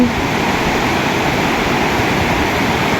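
Big ocean waves break and roar in a continuous, loud wash of surf close by, with no voices over the dense rushing noise.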